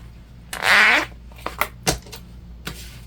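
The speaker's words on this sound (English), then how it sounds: "now we're gonna rip our zipper apart" A fabric zipper is yanked apart with a quick loud rasping rip, followed by a few softer rustles and taps of the zipper halves being handled, close up and without talk.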